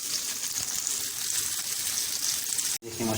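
Okra sizzles in hot oil in a pan, a steady, soft frying hiss that continues evenly before a brief cut and a short rattle at the end.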